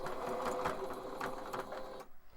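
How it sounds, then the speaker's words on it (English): A sewing machine back stitches a face mask, running steadily with a rapid whirring rattle for about two seconds before stopping, heard close with faint background noise. "back stitch a little bit so it catches"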